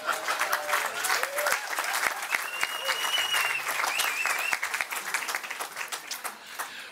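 Audience applause at the official opening of the 2019 Doug Moran National Portrait Prize, a steady, dense wash of clapping that lasts throughout and tapers slightly near the end, with faint voices mixed in.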